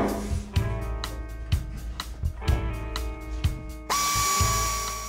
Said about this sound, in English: We're also using a pneumatic drill, since an electric one can generate sparks.